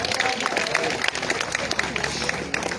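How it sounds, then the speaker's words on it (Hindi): A crowd claps and cheers for a cricketer named Irfan at a prize ceremony after a PSL Season 2 final. The applause sounds as a dense, continuous patter throughout, with some background voices mixed in. "तालियां बजा दे इरफान भाई के लिए"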